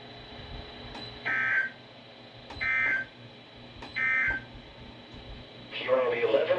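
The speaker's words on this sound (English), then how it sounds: "the National Weather Service has just activated the public warning alarm tone in the test of" National Weather Service weather radio warning alarm tone during a test: three steady, loud beeps about a second apart over background hiss, followed by the start of a louder broadcast tone or voice.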